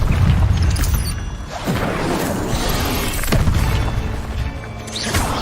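Incendio fire spells in Hogwarts Legacy blast out as loud, booming bursts with crackling, shattering impacts, several swelling blasts in quick succession over a continuous fiery roar.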